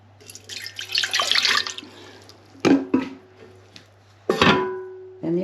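Water poured into the pan of a Russell Hobbs bread maker, faint splashing and trickling in a few short bursts separated by pauses, over a low steady hum in a quiet kitchen.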